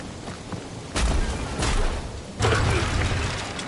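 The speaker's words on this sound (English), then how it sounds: "Drax, think you can drag this cannon out?" A heavy cannon dragged and scraped across the ground in the Guardians of the Galaxy video game, with loud grinding thumps and rumbling surges near 1 s, 1.7 s and 2.4 s over a steady game soundscape.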